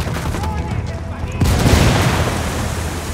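A frag grenade detonates in the Ghost Recon Wildlands video game, a loud sudden boom that rolls into a long, rumbling roar over continuous gunfire and combat din.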